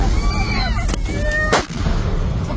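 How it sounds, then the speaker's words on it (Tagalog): An airstrike near a hospital ambulance produces sharp, loud blasts and gunfire-like cracks, one big detonation standing out over a rumbling, chaotic background. "Ang mga medik at pasyente muntik nang masapul ng pagsabog."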